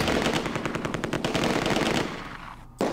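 A rapid, close machine gun burst from the Close Combat 2 war game rattles steadily for about two and a half seconds, then cuts off.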